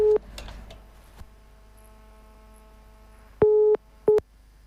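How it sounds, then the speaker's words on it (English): A telephone busy signal follows a dropped phone line during a live news call: a short tone at the start, quiet line noise, then two clear beeps close together near the end. "it looks like we lost Christopher Marco on the line"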